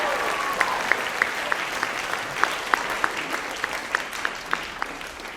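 Audience applause fills a band concert hall at a district band event, a steady wash of clapping with scattered sharper individual claps standing out throughout.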